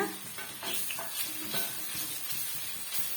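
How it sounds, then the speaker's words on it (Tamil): Ginger garlic paste sizzles in a pan while being stirred for soya chunk fried rice, a close, dense sizzle broken by quick scraping strokes of a spoon, with no talking. "இந்த இஞ்சி பூண்டு பேஸ்டோட வாசம் வந்து போகிற வரைக்கும் வதக்கி விட்டுக்கலாங்க"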